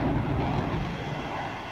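A brief, loud roar of an F/A-18 fighter jet engine revving as it lands on a carrier, broadband and steady, fading slightly toward the end.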